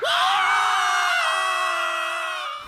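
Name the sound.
screaming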